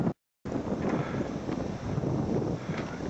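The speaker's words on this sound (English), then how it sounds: "if you can hear the wind" Steady wind roars at the top of a tree during ash tree removal work, a continuous broadband rush close to the microphone after a brief silent cut at the start, with no talking.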